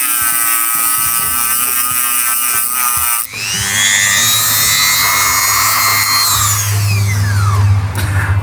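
A power grinder cuts down the metal nose of a car starter: loud, continuous, high-pitched whine that drops and shifts pitch partway through as the tool bites, close by and alone.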